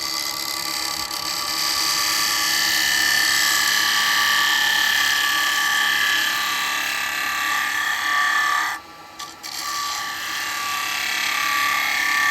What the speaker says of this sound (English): The better tool to go in for that is going to be the spindle gouge